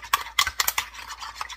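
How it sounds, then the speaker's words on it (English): A spoon stirs chai in a cup, making a few quick, light clinks and scrapes in an irregular rhythm, close and fairly quiet. "I'm stirring it"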